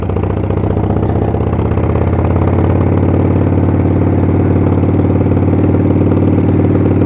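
A carbureted 1997 Harley-Davidson Springer Softail engine idles steadily and loudly up close, with a lumpy, rumbling pulse and light mechanical clatter throughout.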